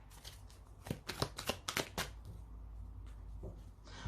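Osho Zen tarot cards shuffled by hand in a quiet room, with a run of crisp riffling bursts followed by softer handling and a final rustle.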